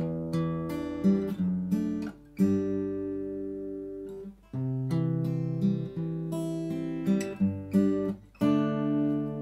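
Acoustic guitar strums the verse chords of a song, a G then D progression, in full ringing strokes with clear pauses between chord changes, played alone without voice.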